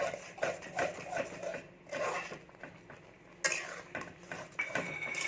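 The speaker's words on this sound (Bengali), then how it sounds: "এখানে আমি কিন্তু হালকা হালকা করে নাড়তে থাকছি আর কিন্তু আমি সুজিটা দিতে থাকছি" A spoon stirs semolina into water in a bowl, giving irregular scraping and clinking knocks against the bowl, close and moderately loud, with brief pauses between bursts.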